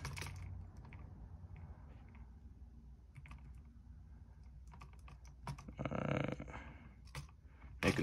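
A Lenovo T420S laptop keyboard being typed on while a new BIOS password is set: soft, sparse key clicks at close range, followed by a short burst of louder rustling and clacking.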